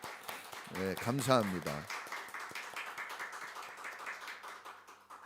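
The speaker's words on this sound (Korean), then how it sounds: "우리 힘있게 박수 한번 보내드립니다." A church congregation applauds warmly with brisk, steady clapping that carries across the clip, while someone speaks briefly over the start of it.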